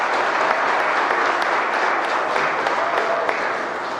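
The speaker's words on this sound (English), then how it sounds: "All right, another round of applause." Steady, dense applause from the audience at a youth business plan competition honouring the winners, loud and sustained throughout, with scattered sharper claps and no speech over it.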